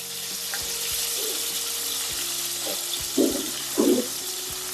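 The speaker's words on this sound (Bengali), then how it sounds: "কড়া ভর্তি করে ছেড়ে দিলাম মাছ" A wok filled with fish fries with a steady, fairly soft sizzle, and a few brief louder spattering bursts rise near the end. Nobody speaks.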